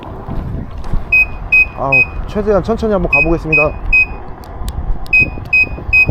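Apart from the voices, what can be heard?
low battery alarm beeping on electric scooter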